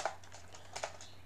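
Quiet, brief patter of keystrokes on a computer keyboard while PHP code for a payment gateway is typed, a few light clicks in quick succession.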